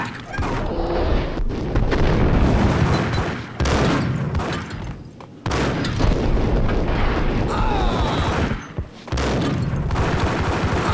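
Loud, dense gunfire fills a Max Payne 1 shootout, with bursts of rapid shots and booming blasts layered over each other and only brief pauses.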